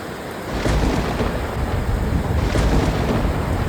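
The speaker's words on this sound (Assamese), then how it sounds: "বৰষুণ, বিজুলী, ঢেৰেকণি" Heavy rain pours steadily on a campsite while low thunder rumbles and rolls in the background, swelling a couple of times.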